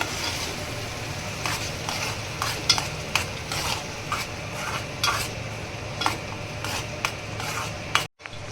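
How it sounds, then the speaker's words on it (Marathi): Prawn masala being stirred in a pan, with repeated scraping strokes of a spatula at a steady rhythm over a continuous low sizzle, ending in an abrupt stop. "हलवून घेऊया आपण"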